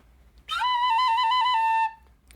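A single whistle blows one long, loud steady tone of about a second and a half, starting sharply and cutting off cleanly, with no talking around it.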